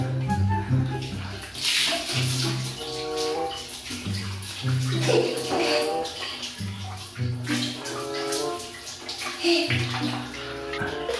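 Water pours steadily into a bucket for a child's bath, a continuous splashing gush running beneath talking.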